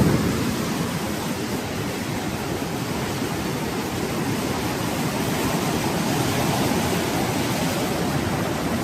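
The strong current of the flooded Mahanadi river makes a heavy, unbroken roar of rushing water, loud and close, steady from start to finish without any voices.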